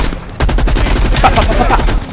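Rapid automatic gunfire in the Call of Duty: Cold War campaign, a dense burst of loud repeated shots starting abruptly and continuing under faint game voices.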